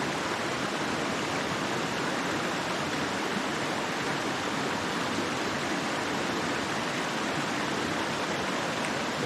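A creek in the Smoky Mountains rushes in a steady, dense hiss of flowing water, constant and fairly loud with no pauses or voices.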